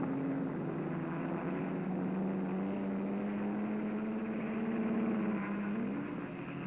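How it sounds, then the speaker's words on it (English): A Porsche racing car's engine drones steadily down the Lavant straight in a 1959 race, a fairly faint, sustained tone that shifts pitch slightly as it passes. "Down the Lavant straight races the Porsche."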